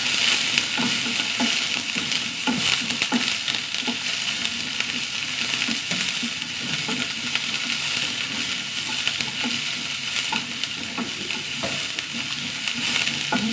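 Curry leaves and small shallots sizzling and frying in a pan, a loud, dense, continuous crackle with small pops and stirring scrapes throughout, without talk.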